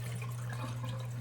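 An iron pan rinsed under a running kitchen tap, giving a brief, faint, steady rush of water with a low hum underneath.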